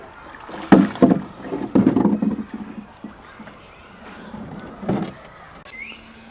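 Small motor running on a homemade wooden micro catamaran on a canal, a steady hum under occasional thumps and knocks, with a faint voice in the background.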